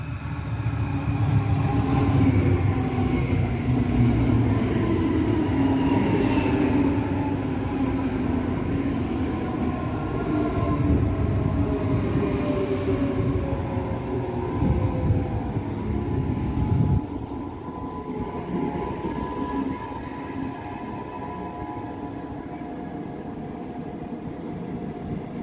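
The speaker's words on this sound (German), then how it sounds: "Da kommt auch schon der Gegenzug." A train pulls into Fürstenfeldbruck station platform in Bavaria, a loud rumbling approach with rising and falling tonal whine that gradually fades and eases off, no talk over it.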